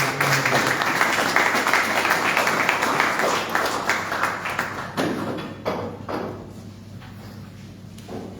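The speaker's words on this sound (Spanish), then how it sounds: "Un fuerte aplauso para el doctor." A hall audience at a parish book presentation breaks into loud, sustained applause, dense clapping that tapers off into a few scattered claps near the end.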